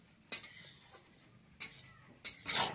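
Metal pot lid lifted in a village kitchen while vegetables cook for chicken curry, three sharp clinks spaced apart followed by a longer scraping rattle, fairly close.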